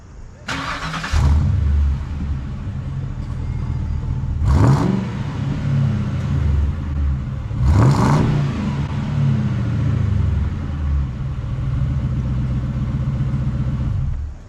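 A classic Lincoln car engine idles loudly nearby with three sharp revs rising and falling in quick bursts, a continuous rumble between them.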